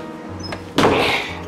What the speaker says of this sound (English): Gotta lock the door.